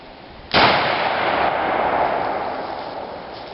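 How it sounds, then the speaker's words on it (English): A 3-inch Magnum shotgun slug fired at a car door: one loud, sharp blast that ends in a long, ringing decay lasting several seconds, with no talk. "next up, 3-inch Magnum slug."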